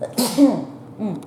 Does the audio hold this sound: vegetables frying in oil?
no